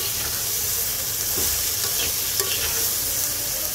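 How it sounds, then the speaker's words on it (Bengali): Crab and potatoes stirred in a hot pan, a loud, dense sizzle up close with soft scraping and shuffling of the pieces throughout. "এবার একটু হালকা মিক্স করে দেই।"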